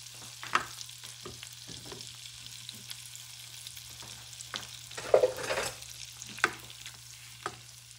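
Butter melts in a small pot over high heat with a quiet, faint sizzle, broken by a few soft clicks and scrapes of a utensil against the pot.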